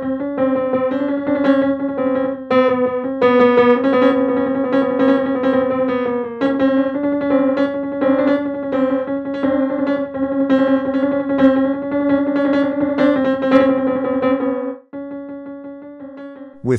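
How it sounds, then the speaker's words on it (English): An excerpt of a Mozart piano sonata played in an alternative tuning, heard as steady, sustained synthesized keyboard tones with repeating notes and chords, continuous and clear, ending with a short quieter tail. "Here's what an excerpt of a Mozart piano sonata sounds like in this tuning."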